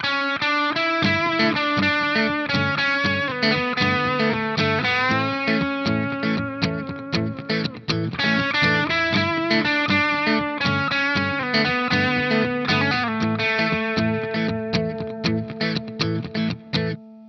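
A distorted electric guitar plays a sliding melodic lead line on one string over sustained chords, continuous and loud for the whole stretch.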